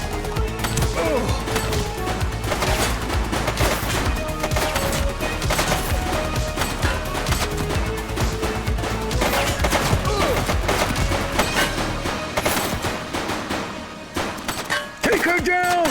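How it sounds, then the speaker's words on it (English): Rapid gunfire bursts in The Precinct, a police action video game, crackle densely and loudly through the whole stretch over music and game effects, with voices calling out alongside. "He's shooting!"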